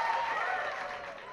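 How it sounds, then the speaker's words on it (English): Audience applause at a multicultural arts night, a dense wash of clapping and cheering that holds steady, then thins and fades toward the end. "Oh, do we have that big applause?"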